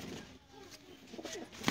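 A pigeon gives a soft, low coo nearby, faint against quiet background noise.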